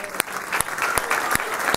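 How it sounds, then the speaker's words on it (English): An audience gives a round of applause as former baseball player Mark Teixeira is brought out, brisk dense clapping with a few sharp, evenly spaced accents and a faint voice underneath. "How about a round of applause?"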